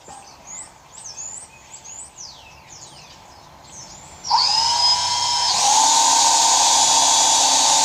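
Step bit (unibit) boring through material while making a bottom drain mash tun: a loud, high whining drill kicks in partway through and then rises in pitch to a sustained screech.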